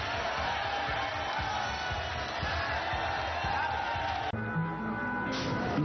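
A dense crowd roars and cheers continuously at a boxing match in Cebu, a WBO super flyweight title fight between Z Gorres and Fernando Montiel, a loud steady wash of voices with a commentator talking over it.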